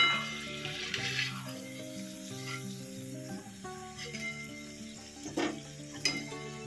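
Faint, steady sizzling of cauliflower for Gobi Manchurian deep frying in hot oil, with soft background music playing over it and occasional light clinks.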